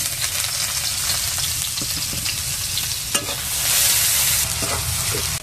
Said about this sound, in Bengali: ওই তেলের মধ্যে পেঁয়াজগুলো দিয়ে দেব